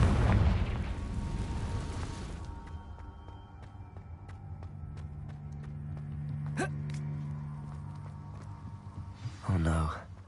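Confringo explosion spell in Hogwarts Legacy: a loud blast that rumbles and fades over a couple of seconds, followed by quieter clinks and a sharp magical zap, then a brief burst near the end.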